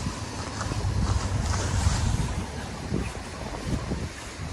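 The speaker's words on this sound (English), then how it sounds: "A little bit windy, sorry about that." Wind gusts steadily across the microphone beside a mill pool on the River Chet at Loddon in the southern Broads, a continuous broadband roar with low rumbling buffets, loud and close, with no talk.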